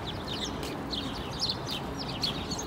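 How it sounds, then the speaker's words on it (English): Many birds calling outdoors in the morning, overlapping chirps and calls repeating over steady outdoor background noise, moderately near with no voices. "Look at all these birds"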